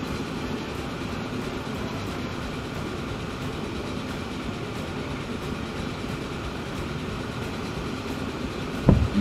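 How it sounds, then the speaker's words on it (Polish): Trains running on rails in the Transport Fever simulation game, a steady rolling rumble with faint rhythmic clatter holding at a moderate level throughout, then a brief louder thump near the end. "Oczywiście robię te przejazdy tymi pociągami"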